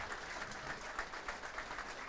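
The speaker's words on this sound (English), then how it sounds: "Nice generous round of applause." Crowd applause at a non-league football match in Horsham, a steady even clapping from spectators around the ground, moderately distant and continuous.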